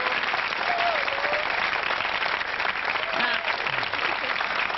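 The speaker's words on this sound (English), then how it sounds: "Give her a round of applause, ladies and gentlemen" A studio audience on a cooking show applauds warmly and continuously, dense clapping with scattered whoops and voices throughout.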